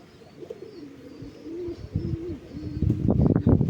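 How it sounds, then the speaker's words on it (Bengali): Pigeons kept at home coo close by in soft, repeated rolling calls that grow louder and busier toward the end, joined by faint rustling. "এই যে আমার যে এখানে কবুতর আছে"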